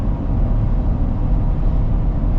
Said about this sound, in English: You do get some tire noise, for those of you wondering.